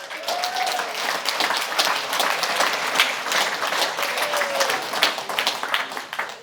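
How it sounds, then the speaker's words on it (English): A conference audience applauding a team member called up to the stage, a dense, lively round of many hands clapping close and loud throughout, with a couple of whoops rising briefly above it. "Give Dave a round of applause."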